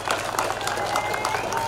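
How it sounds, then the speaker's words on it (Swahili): A crowd at a secondary school ceremony applauds the teachers with steady, dense clapping throughout, mixed with general crowd noise. "Naomba tuwapigie makofi mengi sana."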